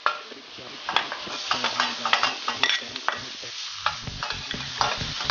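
Garlic and onion sautéing in butter or margarine in a pan make a soft sizzle, broken by frequent clinks and scrapes of stirring, close and fairly quiet.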